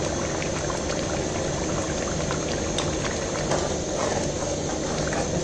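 Fried onion paste goes into a pot of spiced dhaba-style dal chana, bringing a loud, continuous sizzle and bubbling close by, steady throughout with no voices.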